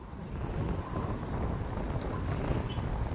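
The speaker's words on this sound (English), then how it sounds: "It is windy as all get out" Steady low rumbling wind buffeting the microphone outdoors in Wyoming, continuous and fairly loud with no voices.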